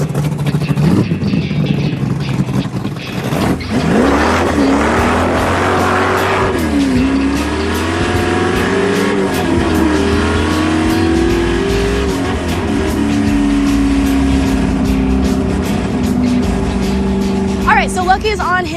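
An AMC Javelin hot rod runs practice laps on a race track, its engine droning steadily and shifting pitch as it accelerates, with occasional tire noise, while people talk over the car.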